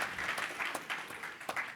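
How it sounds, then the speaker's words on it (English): Brief applause from the audience at a city town hall, a dense patter of many hands clapping at moderate distance, steady and with no speech over it. "give him a hand clap."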